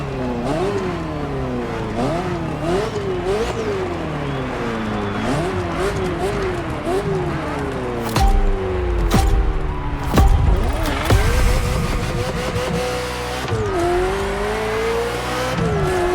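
A Ferrari F40 supercar in The Crew Motorfest drives hard, its engine climbing and dropping through repeated rev sweeps and gear changes, with tire squeal and a louder, rougher burst near the middle. A narrator talks over parts of it.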